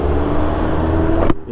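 Deep, throaty exhaust of a small car driving just ahead, a steady low rumble heard from a following vehicle that cuts off abruptly near the end.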